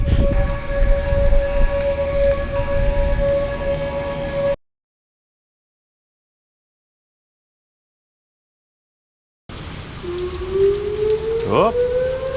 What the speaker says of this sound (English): that rain is getting big.